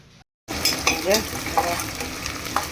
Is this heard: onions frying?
yes